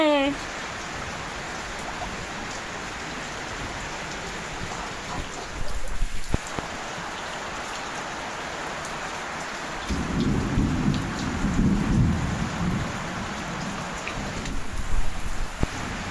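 Heavy rain pours in a dense, steady hiss while deep thunder rumbles low, swelling into a longer roll in the second half.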